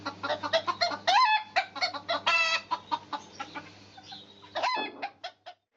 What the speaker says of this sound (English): Roosters can also sound very different in their crowing.